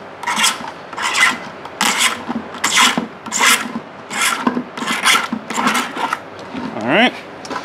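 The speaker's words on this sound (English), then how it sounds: "we're going to remove the burr from the inside with our utility knife," Utility knife blade scraping the burr from inside a cut pipe end for a DIY dust collector, a series of about a dozen loud, rasping strokes in a steady rhythm, very close, with a voice talking over them.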